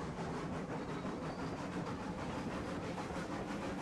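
Steam mogul locomotive hauling a 22-car freight train in Railroads Online, heard as a steady, dense rumble of rolling wheels and chuffing hiss that holds at an even level throughout, with no talk.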